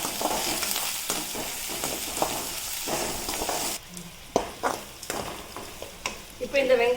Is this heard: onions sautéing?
yes